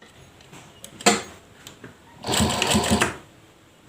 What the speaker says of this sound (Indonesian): Lalu kita jahit.